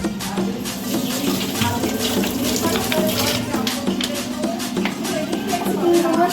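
Tap water runs steadily into a sink while something is washed in a home kitchen, a continuous close gush under hurried talking.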